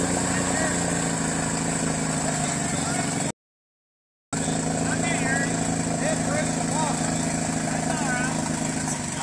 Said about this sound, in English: Here comes the exhaust out of the water.